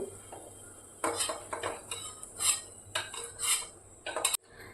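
Fried raisins are scooped out of ghee in a pan, with a run of close metallic scrapes and clinks of a spoon against the pan over a faint hum, ending in a sharp clink.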